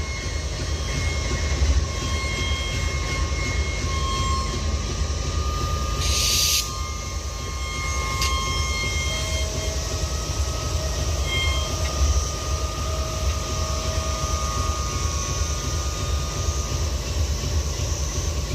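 A freight train and its locomotive idle after the air brakes are released, a continuous low rumble and hum with faint tonal whines, a brief hiss burst midway, and an otherwise steady mechanical drone.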